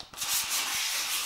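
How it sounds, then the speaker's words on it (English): Wet sanding by hand on a Trek Speedconcept triathlon bike part during paint prep, a steady close-up rasping scrape with rhythmic strokes and no talk. "Guess what's next? Yes, wet sanding"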